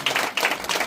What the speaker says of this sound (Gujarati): આપણે તાળી તો પાડા જરા